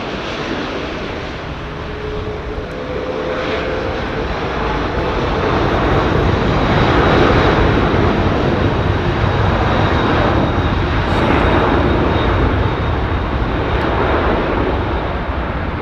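Aircraft taking off at London Heathrow Airport, a loud continuous deep rumble of jet engines that swells and holds steady for about sixteen seconds.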